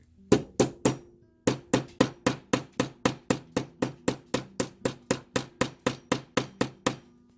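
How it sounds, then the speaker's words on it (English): Rapid, evenly spaced taps of a nylon hammer on earring wire to work harden it, about twenty sharp close knocks in a steady rhythm after a short pause near the start, no talking. "I'm going to go ahead and hammer this with the nylon side just to work harden."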